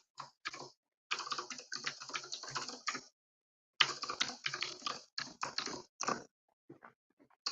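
Someone types a password on a computer keyboard, quick close keystroke clicks in two bursts with a short pause between, then a few scattered final taps, no talking.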